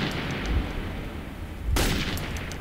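An AK rifle fires in the video game Metro 2033, a sudden sharp burst partway through over a low, rumbling background, followed by a ringing decay.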